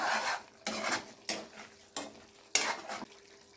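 A ladle scrapes and stirs through palak paneer curry in a pan. It makes five distinct metallic strokes at a steady, unhurried pace, fairly close and soft, and no one speaks.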